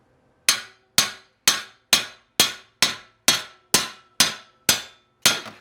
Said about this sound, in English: we're going to try and take the spacer out by first hammering it